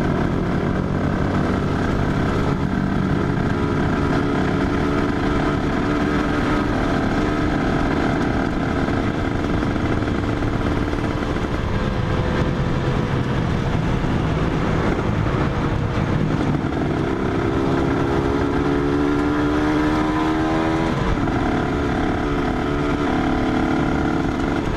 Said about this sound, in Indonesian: motor gue jadi berisik di karbu, bukan berisik di mesin